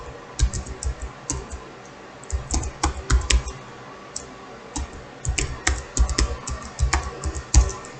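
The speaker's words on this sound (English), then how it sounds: "So I hit enter." Rapid clicky typing on a computer keyboard, bursts of keystrokes with short pauses, close and clear, ending with a firmer key press, with no talking.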